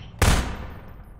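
A single sharp SMG shot in a Half-Life 2 mod video game, one loud close crack with a short decaying tail, heard alone.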